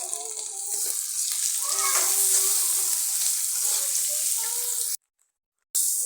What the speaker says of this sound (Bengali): ধুয়ে রাখা পটলের খোসা এবং নুন আর হলুদ দিয়ে একটু ভেজে নিতে হবে সুন্দর করে